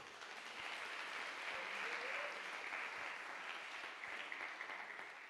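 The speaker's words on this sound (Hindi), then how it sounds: "ताली बजाएंगे इसके लिए।" Sustained applause from an audience at a Christian gathering, a dense even patter of clapping that carries on throughout without pause.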